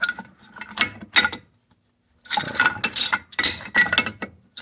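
Ratchet wrench cranking a nut on a bolt to reset a brake caliper, close rapid clicking bursts separated by a brief pause.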